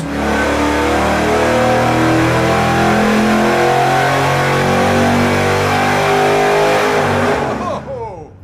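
A supercharged V8 revs hard and loud on an engine dyno, holding a roaring high-rpm pull for several seconds before the serpentine belt slips and the sound abruptly drops away.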